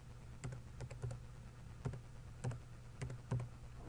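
Quiet computer keyboard keys tapped in short irregular bursts while a file name is entered, a few crisp clicks at a time with pauses between, close and soft over a low steady hum.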